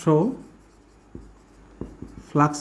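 Handwriting an electric flux equation during a Gauss's law physics lesson: a few short, scratchy pen strokes and taps fall between bursts of a teacher's speech at the start and end.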